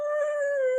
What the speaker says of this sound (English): All the dogs will be howling.